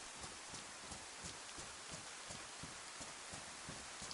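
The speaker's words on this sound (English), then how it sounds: "Look at this, the rain." Rain pours steadily in the survival video game DayZ, a faint, even hiss of falling drops with soft patter throughout and no voices.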